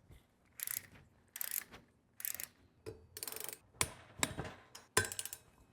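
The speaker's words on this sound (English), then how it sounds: "Now let's torque these down to about 12 Nm." Torque wrench tightening e-bike brake bolts to 12 Nm during a Lewis EP-6 brake install on an Eride Pro, giving several short bursts of mechanical ratcheting clicks separated by brief pauses, close and fairly loud, with no talking.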